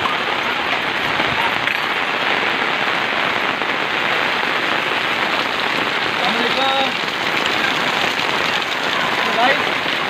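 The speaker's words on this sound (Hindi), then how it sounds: "ये आप चेक करें गाँव का माहौल कैसा होता है जब बारिश होती है" Heavy rain falls on a village, a loud, even, unbroken hiss of drops on surfaces lasting the whole stretch, with faint distant sounds beneath.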